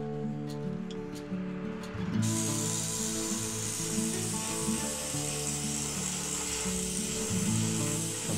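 Airbrush lightly dusting paint over the fins of a carved wooden brown trout: a few short taps, then a steady close hiss running over a low background hum.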